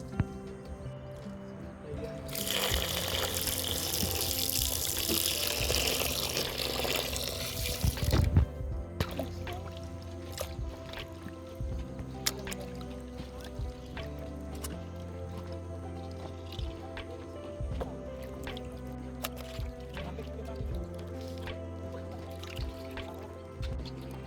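Liver and boneless mutton, along with separated fat, washed under running water: a broad rush of flowing water for several seconds near the start, then fainter dripping, splashing and handling sounds continuing at a low level.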